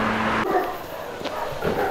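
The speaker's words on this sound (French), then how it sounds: "Il y a des chiens qui vont attaquer" Dogs barking outdoors on a walk around the island of Mauritius, a few short yips and barks at moderate distance over steady background noise and wind.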